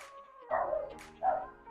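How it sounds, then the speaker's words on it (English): A dog barks twice at someone at the door, two short bursts separated by a pause, moderately near, against a faint tonal background hum. "So the dog was actually barking because someone's at the door."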